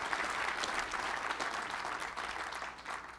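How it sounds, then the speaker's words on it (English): An audience applauds, a dense wash of steady clapping held at an even level throughout, with no voices on top. "Please give John a big round of applause."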